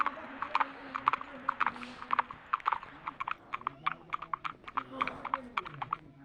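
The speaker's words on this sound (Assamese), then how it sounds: "এতিয়া ঘোঁৰাত উঠিম।" Horse hooves clip-clop in a quick, uneven rhythm during a paid horse ride at a fair, fairly close but soft, with faint voices around.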